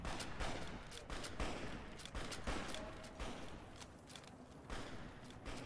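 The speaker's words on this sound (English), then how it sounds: "Where are they shooting at?" Gunfire in Fallout: New Vegas, rapid volleys of shots and impacts crackling through a busy, noisy game scene, with bursts repeating throughout at moderate distance.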